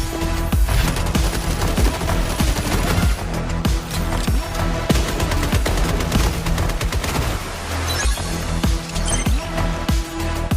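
Dense, continuous video game gunfire with rapid automatic bursts and booming impacts, loud and unbroken, layered over game music and effects.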